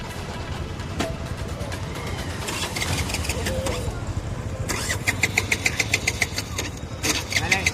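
A motorcycle engine turns over and catches, then runs with a steady mid-pitched rumble and rising revs amid street noise outdoors; a few voices are faintly audible in the background.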